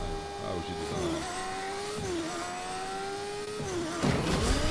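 A motorbike engine revving in Fortnite, a close, rising and falling whine with repeated throttle surges and a louder burst near the end, while voices talk over it.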